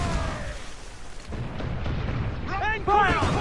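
Ship cannons firing during a naval battle in Assassin's Creed IV Black Flag: heavy booming blasts and rumble, with a shouting voice over the barrage.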